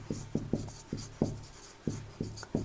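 An equation being written on a board in a chemistry class, crisp scratchy strokes and taps coming in a quick irregular series, close and moderately loud over a faint steady hum.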